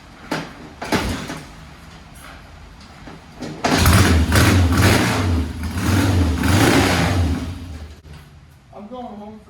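A Triumph Bonneville or Kawasaki H1 motorcycle engine is kicked over for its first start, giving a loud, rough burst of engine noise that builds, holds for several seconds, then cuts off, with voices talking before and after.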